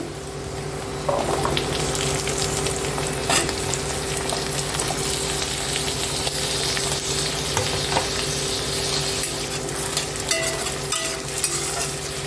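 Diced potatoes fry in hot oil, a loud continuous sizzle close by, with light stirring scrapes running through it and no voices.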